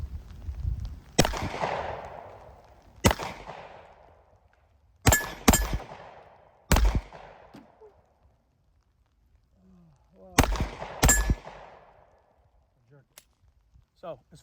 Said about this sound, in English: 365X Macro Comp. Let's see if we can shoot this thing.